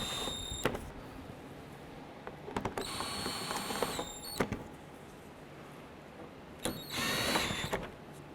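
Cordless power drill snugging down the mounting screws on a 2012-17 Toyota Camry windshield washer reservoir, with several short whirring bursts separated by pauses and clicks of handling, fairly close.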